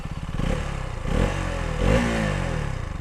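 A 2024 KTM Duke 200 single-cylinder motorcycle engine fires up and settles into a loud, close, throbbing idle with short surges of revving, with no voices over it.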